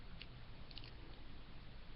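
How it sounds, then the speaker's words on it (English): A chocolate cookie bitten and chewed, producing a few faint, brief crunches early in the clip and then quiet, low mouth noise with no talking. "I know some people that hate when people are so loud with that kind of chewing stuff"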